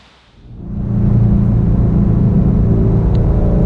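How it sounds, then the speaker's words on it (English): A 2017 Shelby GT350 with a 1000R twin turbo package builds from quiet into a loud, steady engine drone as it pulls away on a test drive, close and rumbling. "So we're just out for a test drive in this 1000R twin turbo package car."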